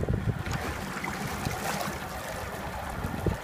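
A 2000 Mirrocraft Striker XL 16-foot boat's outboard motor idles in reverse gear, a steady low rumble with churning water wash throughout, close and continuous.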